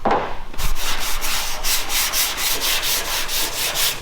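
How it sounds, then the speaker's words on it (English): Steady rhythmic rasp of sanding against a Chevy truck cab body panel, repeated back-and-forth strokes, close and continuous with no talking. "Now I'll just sand it to the line"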